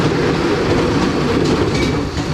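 A carnival ride train runs on its tracks at a Paris winter fair, a loud, steady rumble with continuous wheel clatter, close and unbroken throughout.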